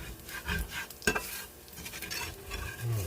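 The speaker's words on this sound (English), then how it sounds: "Now you stir this up, dry all that grease up." Bologna grease being stirred in a pan, heard as soft scraping and stirring strokes with a faint sizzle underneath and one sharper utensil knock, fairly quiet and close.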